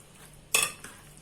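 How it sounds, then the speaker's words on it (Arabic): A single sharp scrape of a utensil stirring minced meat and vegetables in a tray, followed by a fainter second clink, with a quiet sizzle-like hiss beneath. "هنقلبها كويس وبعدين هنوزعها على الصينيه كلها"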